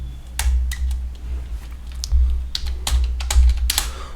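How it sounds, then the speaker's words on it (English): Code being typed on a computer keyboard, with bursts of crisp key clicks in an irregular rhythm and a few louder taps, close and steady over a low hum. "I'll just type the code firstly."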